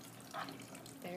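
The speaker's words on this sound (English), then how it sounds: "There goes the water." Water pours into a mixing bowl during a glue-and-water kids' chemistry activity, a brief, quiet splashing trickle with a voice faintly present nearby.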